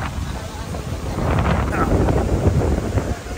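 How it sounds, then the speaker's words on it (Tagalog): Strong gusts from an approaching storm on Boracay buffet the microphone with heavy low rumbling that swells and roars continuously, with surf-like noise underneath. "sobrang hangin ng bagyong 2 darating"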